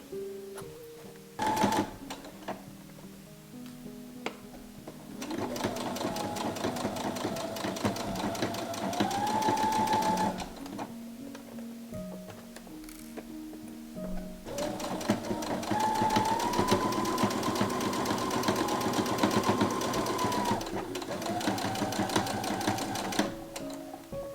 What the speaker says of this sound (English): wrap it around the binding and pin it and straight stitch it